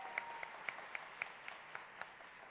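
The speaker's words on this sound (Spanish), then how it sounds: "Un aplauso, mira, la siguen allá abrazando." Audience applause at the Premios Florencio children's theatre awards ceremony, a steady, moderately distant patter of clapping with a few sharper individual claps standing out.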